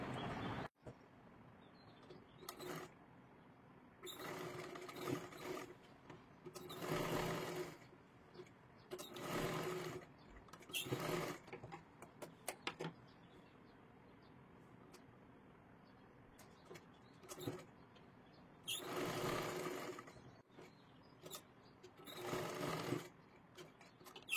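Electric sewing machine stitching a katori blouse seam, running in repeated bursts of rapid whirring separated by short pauses, close and clear with no talking.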